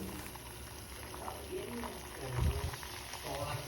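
Drinking water boils in a pot on a stove over a low flame, a faint bubbling and hiss with a louder gurgle near the end and a voice talking softly.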